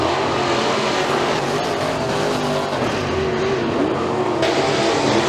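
A Pro Mod race car roars loudly and steadily around turns three and four toward the checkered flag at Freedom Motorsports Park, with dense engine noise throughout and other cars audible nearby.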